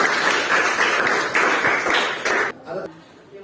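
A classroom of students applauding after a group presentation, a dense burst of clapping lasting a couple of seconds before cutting off, with voices mixed in.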